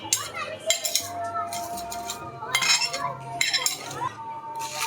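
Whole spices tipped into a metal bowl while making Bangladeshi kala bhuna, giving several light clinks and rattles against the dish in short bursts at close range.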